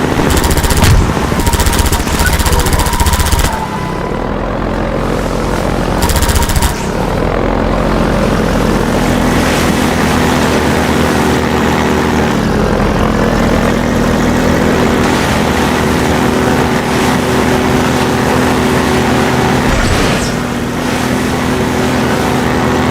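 Half-Life 2 helicopter combat arena at sunset: a loud, steady helicopter rotor drone carries throughout, punctuated by bursts of rapid machine-gun fire and sharp impacts early on, with no speech.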